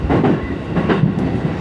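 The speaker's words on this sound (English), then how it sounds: "This is an Oman Line train for Oman." Oman Line train rolling along the rails in Japan, heard from inside the car as a steady low rumble with rhythmic clacking swells from the wheels, no voices.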